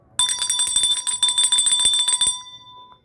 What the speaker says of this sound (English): Ring the bell on that.